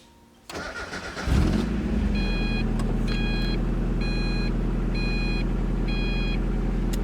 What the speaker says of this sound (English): I'll give you guys a cold start.